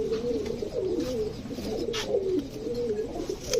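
Domestic pigeons coo in repeated low, throaty rolling calls, close by and fairly loud, with a few faint chirps and background noise from a loft.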